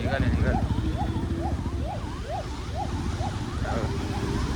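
An ambulance siren wails in a traffic jam, its repeated rising-and-falling tone cutting through the constant rumble of idling and moving vehicles, with voices talking inside a car nearby.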